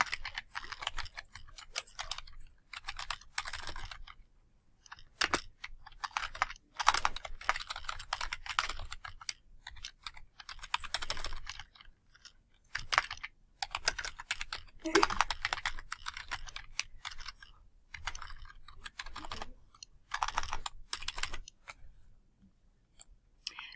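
Typing on a computer keyboard while filling in a table in a PowerPoint assignment, bursts of quick close key clicks with short pauses between them.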